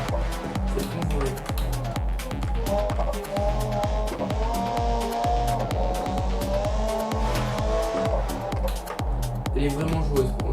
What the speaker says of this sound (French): Elle est vraiment joueuse par contre cette voiture. Elle dérape facilement.